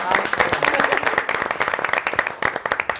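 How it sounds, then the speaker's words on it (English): A round of applause at a school committee meeting, a modest group clapping briskly with individual hand claps audible, loud and close, thinning toward the end. "I think we should give her a round of applause."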